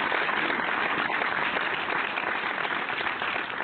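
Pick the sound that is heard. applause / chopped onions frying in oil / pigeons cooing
applause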